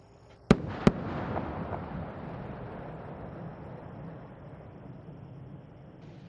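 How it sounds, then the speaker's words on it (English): Space Shuttle Atlantis returning to the Kennedy Space Center launch site before dawn announces itself with twin sonic booms, two sharp loud cracks a split second apart followed by a long fading rumble. "the space shuttle announces its arrival at the launch site with its signature sound of twin sonic booms"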